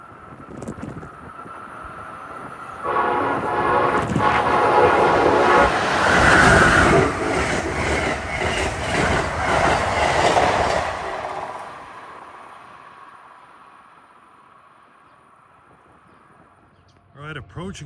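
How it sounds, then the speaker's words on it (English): Amtrak train 19, the Crescent, from New York to New Orleans, roaring past at Princeton Junction, New Jersey, for about nine seconds with a rumbling, clattering build and sustained horn tones, then fading into quiet. "approaching now at 2:50 is train 19, the Crescent from New York to New Orleans."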